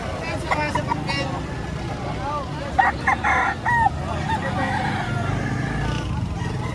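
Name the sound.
chicken crowing at Lipa auction market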